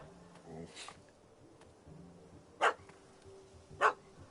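A puppy barking in The Witcher 3: Wild Hunt, two short, clear yips a little over a second apart, set over a quiet ambient game background with a faint earlier rustle.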